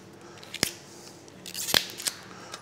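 Trimming the small leaves from the base of a whole artichoke makes two crisp, close cutting snips about a second apart, with faint rustles of leaves in between. The room is otherwise quiet.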